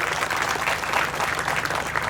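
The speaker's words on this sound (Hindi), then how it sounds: "एक बार जोरदार तालियां हृदय जी के लिए आप लोग बजा दें।" A crowd claps steadily and densely at a party workers' conference in Uttar Pradesh's Braj region, with loud, sustained applause filling the hall and no voices over it.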